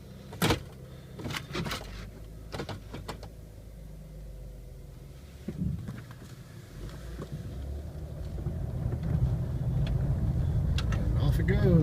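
A wrecked 2001 Chevrolet Impala with about 105,000 miles pulls away and shifts into second, its engine noise building steadily toward the end after a few door or cabin knocks, with a person talking over it.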